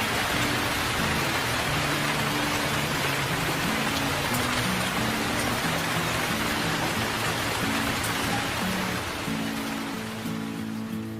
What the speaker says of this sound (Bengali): আরে, বৃষ্টি শুরু হয়ে গেল